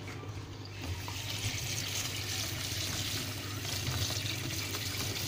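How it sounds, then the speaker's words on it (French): Rinse water trickling out of a sieve holding thawed, rinsed small food pieces: a steady close splashing and dribbling flow, fairly quiet and continuous. "C'est pour ça que je fais écouler l'eau sur le côté."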